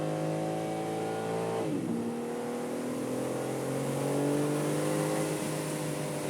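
A 2022 BMW M3 G80 on a track holds a loud, steady engine drone, then a quick upshift drops the pitch sharply. The engine climbs again smoothly and stays close and continuous throughout.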